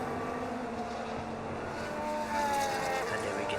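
Formula 1 race cars run on track in the F1 25 video game, their engines a steady, whining drone with shifting pitch as the cars pass and jostle for position, fairly faint and continuous.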